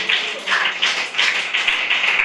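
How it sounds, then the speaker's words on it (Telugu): Congregation clapping loudly during a Christian sermon, with rhythmic bursts of hand claps repeating steadily through the whole moment and no speech over them. "చప్పట్లు కొట్టండి గట్టిగా."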